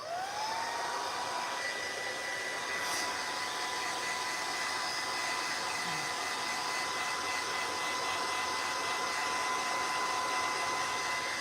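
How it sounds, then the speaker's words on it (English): A heat gun blows with a steady, loud whirring hiss and a faint constant whine, running unbroken throughout with no talk. "So I'm gonna go ahead and bring in my heat gun."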